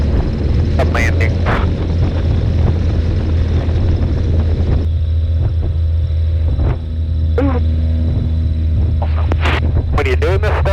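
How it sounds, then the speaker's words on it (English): A Cessna aircraft on final approach for landing gives a steady, loud low engine drone throughout, with bursts of voices that sound like radio chatter over it. "Cessna 668 is coming in on a final right now."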